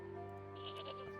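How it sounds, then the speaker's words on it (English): A goat bleats in the point-and-click game Broken Sword 2, a short, quiet call sitting over a steady backdrop of sustained in-game tones. "I know I can talk to the goat."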